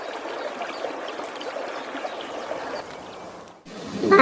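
River water flowing in a steady, continuous rush of soft noise for most of the stretch, broken by a short dip near the end before a different, brighter sound takes over.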